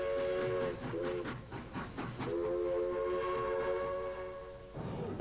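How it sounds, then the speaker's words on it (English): L&N 152 steam locomotive on hand-laid track, its whistle sounding in several short blasts followed by a long sustained blow over a steady rumble and clatter of cars rolling along the rails. "They sat tight as the train backed up on the hand-laid track, and then they were off."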